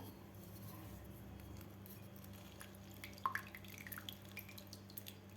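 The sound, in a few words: half a lemon squeezed, juice dripping into sattu drink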